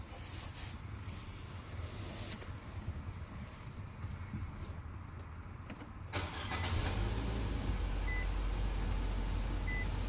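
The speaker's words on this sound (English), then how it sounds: "I want to crank the car so the whatever pressure in the line will come out" A Nissan car engine cranks with a strained, churning whir after a fuel pump replacement, then catches and settles into a steady, louder running rumble that continues to the end.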